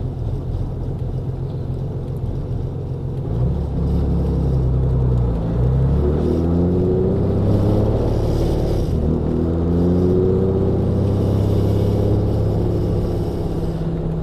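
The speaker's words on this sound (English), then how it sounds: "There's a truck coming up the hill." A heavy truck engine rumbles low and loud as it climbs a hill, its pitch rising and falling as it labors and shifts gears, building steadily over the clip.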